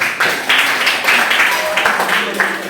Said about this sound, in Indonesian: Silakan tepuk tangan teman-teman.